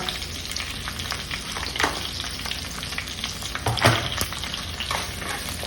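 Coriander seeds, urad dal and cumin sizzle in hot oil as a tempering, a steady crackling fry broken by the occasional scrape of a stirring spoon.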